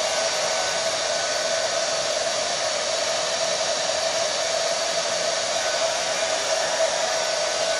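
Handheld hair dryer with a diffuser attachment drying curly hair, running as a steady, loud, continuous whoosh with a constant motor whine throughout, no speech.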